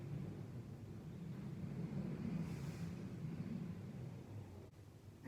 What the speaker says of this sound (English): Can you hear the wind? That's the wind. It's really windy.